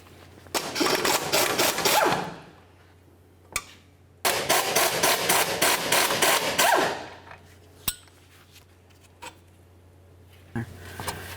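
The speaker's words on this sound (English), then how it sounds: "To get it out of the way, I'm just going to go ahead and remove these two bolts." Two strut bolts come off a Ford Ranger front axle, heard as two long bursts of rapid, loud ratcheting or impact-tool rattling, with a few sharp metallic clicks and knocks between and after them.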